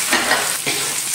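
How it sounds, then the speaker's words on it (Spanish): Bomba rice and octopus fry in a pan with a dense, steady sizzle, close and loud, broken by soft stirring scrapes. "Ya esto lo vamos a freír un poquito"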